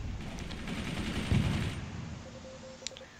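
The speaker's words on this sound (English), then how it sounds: "But the enemy machine guns are shooting them down." Rapid machine gun fire in the war strategy game Forts during an African theatre battle, a dense rattling burst that fades out over a few seconds, with a faint tone and click near the end.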